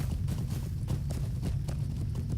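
Horse hooves clip-clop steadily in The Lord of the Rings Online while the player rides a mounted horse, a continuous rhythmic trot of close, even footfalls with no talk over it.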